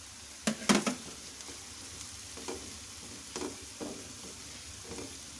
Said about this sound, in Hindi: अब हम इसमें हरी मिर्च डाल देंगे।